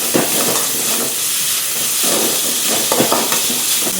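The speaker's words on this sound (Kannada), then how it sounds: "ಕರಿಬೇವು ಹಾಕಿದ ಮೇಲೆ ಹೆಚ್ಚಿಟ್ಟದನ್ನು ಈರುಳ್ಳಿ ಮತ್ತು ಕಾಯಿ ಮೆಣಸು ಚಂದ ಫ್ರೈ ಆಗಬೇಕು" Chopped onion, green chilies and curry leaves fry in a pan for an egg dish, giving a loud, continuous close-up sizzle with brief swells as the pan is stirred.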